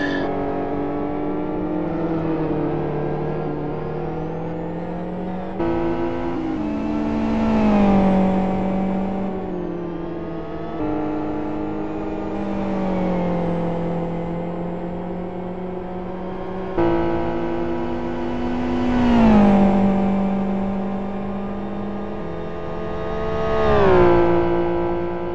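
GT1 race cars at a 2013 GT1 World Series round accelerate hard on track, with several engines rising in pitch through gear changes as the cars pass one after another at a moderate distance.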